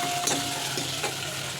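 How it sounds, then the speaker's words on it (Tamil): Chopped onions and tomatoes sauté in a pan for sambar, giving a soft, steady sizzle with a few faint clinks of stirring. "வெங்காயம் தக்காளி எல்லாம் வதங்கணும்"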